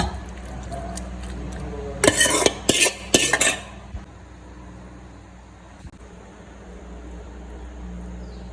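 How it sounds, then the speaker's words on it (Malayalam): A spoon scraping and clanking against a pot as prepared biryani masala is transferred in and rice layered over it, a few loud clatters in quick succession followed by quieter kitchen background. "ഇനി നമുക്ക് നേരത്തെ തയ്യാറാക്കി വെച്ച മസാല ഈ പാത്രത്തിലേക്ക് മാറ്റി അതിന് മുകളിലേക്ക് ചോറ് ഇട്ട് കൊടുത്ത് ദമ്മിന് വെക്കാം"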